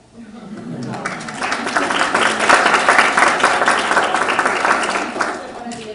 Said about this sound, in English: give you a round of applause for being here since 8:30 for class